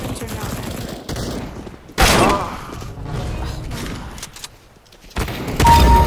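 Shotgun fire in Counter-Strike: Global Offensive comes as several loud, booming blasts at irregular intervals, mixed with mechanical clatter and game noise.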